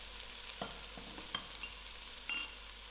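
Diced potatoes being stirred in a soup pot for creamy salmon soup; soft, scattered scrapes and light clinks of a utensil against the pot, faint and close, with no talking.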